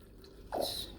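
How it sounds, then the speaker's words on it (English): A cup of water poured over pandan leaves while making a Lao dessert, heard as a short, soft splash and squish lasting well under a second against a quiet background. "Now we got the pandan leaf, so I'm gonna add 1 cup of water."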